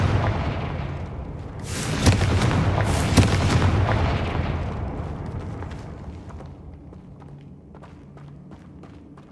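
A Confringo spell explosion in Hogwarts Legacy: a loud, rumbling blast that swells over a couple of seconds, then fades into a long decaying roar with scattered crackles.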